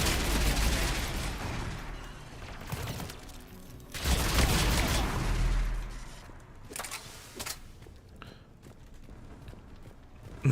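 Rapid bursts of weapon fire from a Mass Effect Legendary Edition firefight crackle loudly and densely, with heavy volleys around the start and again near four seconds, thinning into scattered shots toward the end.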